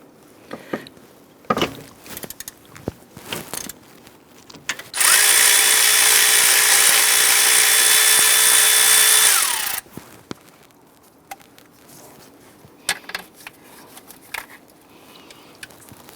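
A power tool, likely an impact or ratchet with a 13mm socket, spins a nut off the alternator harness stud on a 2011-2021 Jeep Grand Cherokee 3.6L V6, one loud steady whir of about five seconds amid scattered workshop clicks and clatter.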